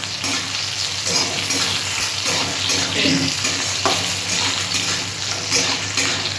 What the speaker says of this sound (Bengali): পেঁয়াজটা একটু হালকা করে, মানে হালকা বলতে কি মোটামুটি ভেজে নেব